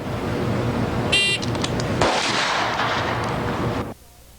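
Pistol shots from a timed shooting drill on a range, a start beep followed by a quick string of close, loud reports that cut off into quiet.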